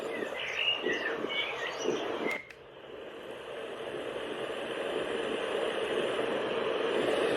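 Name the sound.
bird song sound played by Ewan Deluxe sleep aid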